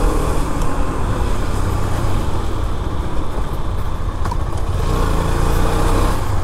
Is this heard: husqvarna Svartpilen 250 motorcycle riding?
yes